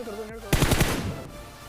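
Rapid PUBG Mobile gunfire in a burst of closely spaced shots, loud and close, following a quieter stretch with faint background activity, then trailing into a lingering echo.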